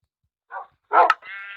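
A few short animal calls nearby, a brief yelp then a louder bark-like cry from dogs, followed by a sustained bleating tone; no talking.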